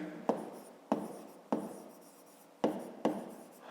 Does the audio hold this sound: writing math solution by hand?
yes